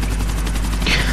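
Helicopter in the video game GTA IV, a steady, loud rotor drone running continuously throughout with no pauses.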